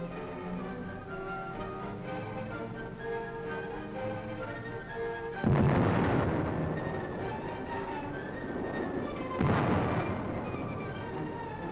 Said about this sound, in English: They're entrenched in the city's post office and under repeated fire of Nazi-trained militiamen.